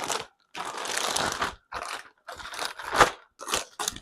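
New packaging for a Subaru Tribeca control arm is torn and rustled open in close, loud bursts of crinkling plastic and paper, separated by short pauses.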